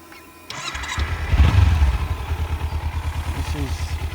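A rented Kawasaki racer motorcycle on a mountain road in Thailand starts up, then settles into a loud, close, steady idle with a rhythmic low throb; a voice talks briefly over it early on.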